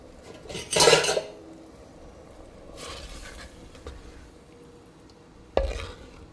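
Metal utensils clink and scrape against a cooking pot as torn vada pieces go into a boiling mixed curry, with a loud clatter near the start, a softer stir midway and a sharp knock near the end.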